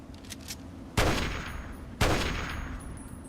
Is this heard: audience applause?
no